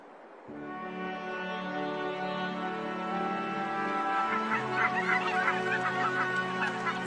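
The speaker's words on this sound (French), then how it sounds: "Des milliers de cygnes chanteurs font régulièrement escale en Allemagne du Nord" A flock of whooper swans stopping over in northern Germany calls with honking, trumpeting notes that build and grow busier toward the end, blending into a dense, overlapping chorus.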